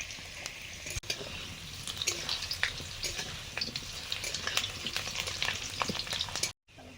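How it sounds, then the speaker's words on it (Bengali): Potatoes for khichuri sizzle and crackle in hot oil in a home kitchen, a steady frying hiss broken by sharp clinks and scrapes of stirring, close and continuous until it stops suddenly near the end. "আর এই যে খিচুড়ির আলুটা ভাজছি এখন"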